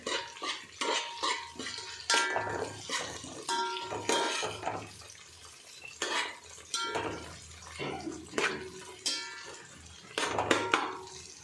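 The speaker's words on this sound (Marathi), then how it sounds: "टमाटर हलवून घेऊया व्यवस्थित" A spoon stirs chopped tomatoes in a cooking pan for masala veg pulao, giving repeated scraping and clinking strokes in a steady rhythm with a soft wet sizzle underneath, close and moderately loud, with no talking.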